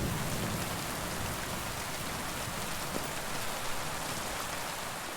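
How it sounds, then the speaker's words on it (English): Steady, dense rainfall in the medieval game world of Kingdom Come: Deliverance II, a continuous hiss of drops on surfaces with no talking, at an even moderate loudness throughout. "It is very difficult to see much while it's raining."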